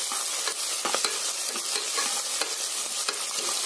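Onions fry with fennel seeds in a pan for chicken curry, making a loud continuous sizzle under repeated scraping and stirring strokes of a spoon.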